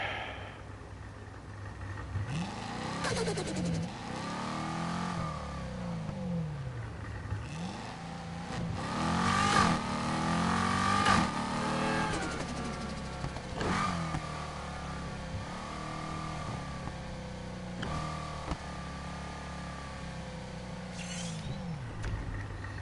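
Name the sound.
car engine revving in video game Need for Speed Heat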